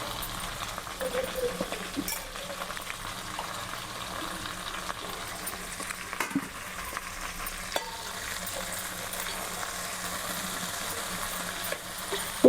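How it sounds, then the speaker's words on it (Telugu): Curry leaves and mint fry in hot oil with a soft, continuous crackling sizzle, broken now and then by faint stirring taps, close by and fairly quiet. "నూనెలో ఫ్రై చేసుకుందాం"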